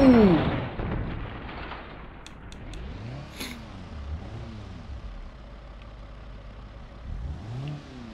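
Car engine in the BeamNG.drive driving game, an ETK A-Series with both driveshafts smashed, revving up and down in repeated swells, with clunks and scraping knocks under it.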